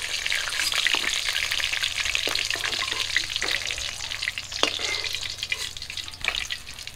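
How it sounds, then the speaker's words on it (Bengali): A silver carp tail fries in hot oil, giving off a steady, close sizzle with crackling pops and spits throughout and no voices. "লেজাটা ভাজবো"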